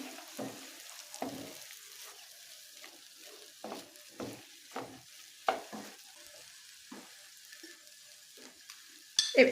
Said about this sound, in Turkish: şöyle bir 4-5 dakikada bulgurumuzla pirincimizle kavurmaya devam ediyoruz pilavımızı